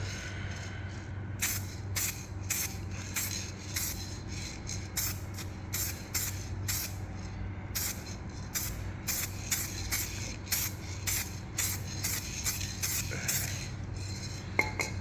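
Repeated short aerosol spray paint bursts in quick, irregular succession, light dusting coats, crisp hisses over a steady low hum, continuing throughout.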